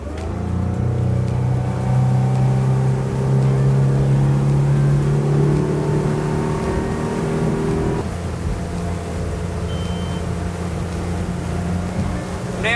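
Honda BF250 3.6-litre V6 outboard engine runs on a boat, a loud, steady whine that climbs in pitch for several seconds, then settles into a lower, even drone.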